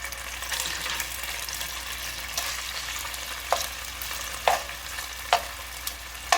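Beef strips frying on medium heat for beef and broccoli: a continuous steady sizzle broken by several sharp stirring scrapes and clacks toward the end, close up and alone.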